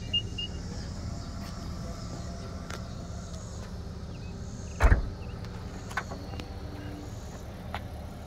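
The power liftgate of a 2022 Nissan Pathfinder Platinum AWD hums faintly under low outdoor ambience, then shuts with a single sharp thud near the end.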